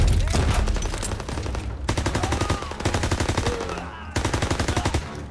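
Rapid automatic gunfire from a newly picked-up weapon in the World War II shooter game Call of Duty WWII, loud bursts of fast repeated shots with brief pauses between volleys.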